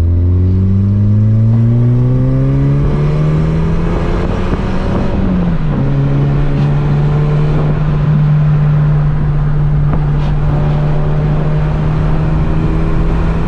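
VW Mk4 Bora wagon with its muffler deleted, accelerating downhill: a loud, raspy engine drone climbs in pitch, drops briefly at a gear change, then holds a steady, strong tone close by.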